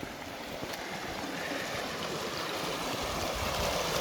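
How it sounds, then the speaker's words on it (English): Steady rushing of a flowing creek, a continuous broadband wash with no pauses, fairly close and loud throughout. "Nothing beats the sound of running water."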